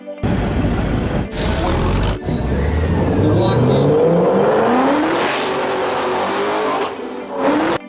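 A Ford GT40 endurance race car roars close by, engine climbing through revs with rising pitch and tire noise before sweeping past, while a voice talks over the start.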